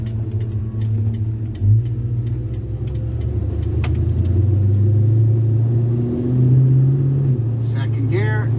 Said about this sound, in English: We'll just take her for a run up the street here and turn around.